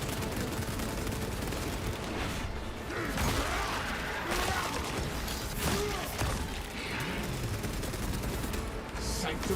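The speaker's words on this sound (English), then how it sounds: "Why is my gun firing that way?" Rapid gunfire in the video game Space Marine 2, dense bursts of shots and mechanical clatter running throughout over a busy game soundscape.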